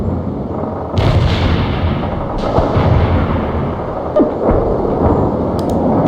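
Napalm artillery strike in the video game World in Conflict, a dense, loud rumble of overlapping explosions and booms rolling on continuously, with a brief dip before fresh blasts surge back in.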